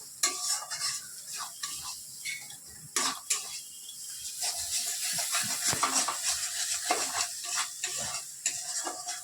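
Spice paste for a katla fish curry being sautéed in a pan: soft sizzling with irregular scraping and clinking of a spatula against the pan, close by, no talking.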